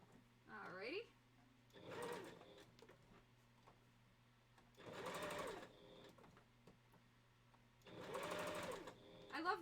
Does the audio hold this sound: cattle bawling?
no